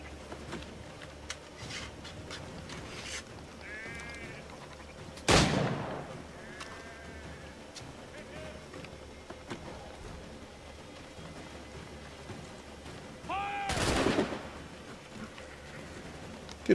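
Two sharp, loud gunshots ring out in Assassin's Creed, one about five seconds in and another near fourteen seconds, each with a long echoing tail over a low game ambience with faint tonal chirps.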